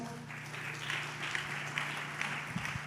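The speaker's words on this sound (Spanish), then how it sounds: "¿Qué le parece si le damos un aplauso a eso?" Congregation applause in a church: a soft, distant, continuous patter of many hands clapping over a low steady hum, with a few louder claps near the end.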